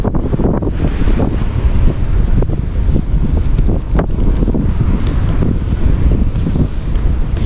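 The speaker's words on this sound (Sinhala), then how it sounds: "මේ හරි මූද සැරයි ගොඩක් සැරයි." Rough sea surf pounding the beach at Kirinda near Yala's sand dunes in Sri Lanka, a steady, loud, broadband roar of breaking waves with heavy wind buffeting the microphone throughout.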